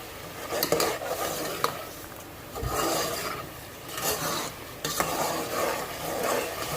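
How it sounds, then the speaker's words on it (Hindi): Masala frying in a cup of oil for creamy chicken, sizzling steadily while a spoon scrapes and stirs the pan in repeated rasping sweeps, close and moderately loud, with no talking. "अब हम इसमें ये 1 प्याली ऑयल की डाल देंगे"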